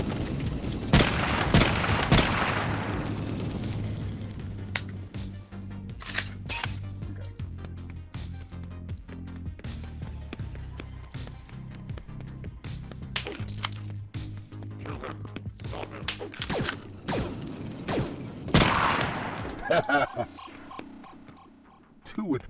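Gunshots in the video game Compound come in sharp, scattered bursts over a low hum, with someone talking at times between the shots.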